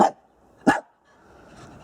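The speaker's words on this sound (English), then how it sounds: "This is my sister's dog." Two short, loud barks from a pet dog at an allotment garden, spaced about half a second apart, followed by a low, quiet background hum.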